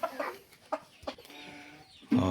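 Roosters and hens of ornamental breeds cluck in short separate bursts, finishing with a louder, nearer call, and no one speaks over them.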